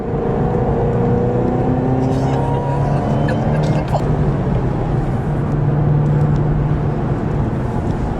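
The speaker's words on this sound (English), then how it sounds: "So this is us taking a drive around Tauranga now." A Ford Mustang drives around Tauranga, heard from inside with a steady, loud engine and road rumble throughout and no clear revving peaks.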